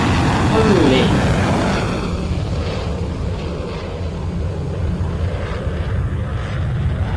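A JAS Gripen jet flies in a flight simulator game at an airshow, giving a loud, steady broadband engine roar that holds through the whole stretch, with a voice talking over it.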